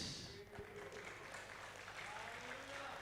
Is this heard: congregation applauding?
yes